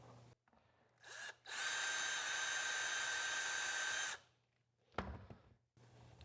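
A power drill bores a hole through a Tusk Holeshot fork guard brace, a steady whining burst of nearly three seconds after a brief start, then stopping, with a short knock afterward; close and loud.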